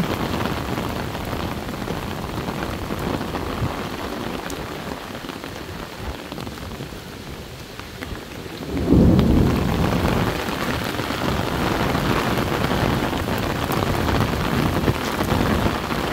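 Heavy rain pours down on a street along Central Park West in New York City, a dense steady hiss of drops on pavement that swells louder partway through, with a low rumble mixed in and nobody talking.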